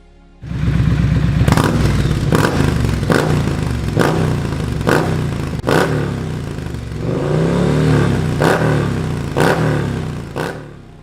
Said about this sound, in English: But at least, I can play the exhaust sound to you.